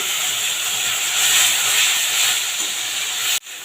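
Ground spice paste and tamarind hitting fried taro in hot oil throw up a loud, bright hissing sizzle that stays steady, then cuts off abruptly near the end.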